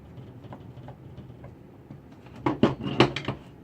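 Small screws are tightened into a graded comic book frame, a quiet stretch followed by a cluster of sharp close clicks and metallic ticks as they seat.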